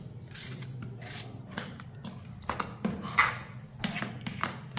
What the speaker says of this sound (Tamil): இப்போ இதை வந்து கட் பண்ணி போட்டுக்கிடுவோம்.